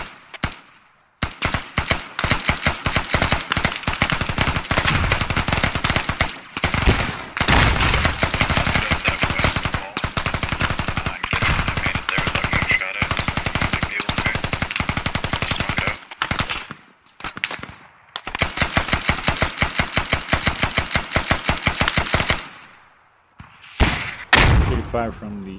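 Gunfire in the tactical shooter game Squad: dense, loud bursts of automatic rifle fire rattle almost nonstop, separated by brief pauses, with heavier sharp reports mixed in near the end.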